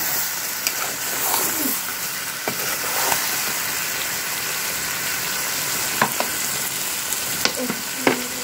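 Eggs frying in a hot pan, a loud continuous sizzling crackle with a few sharp spatter pops and stirring scrapes, close up and alone without speech.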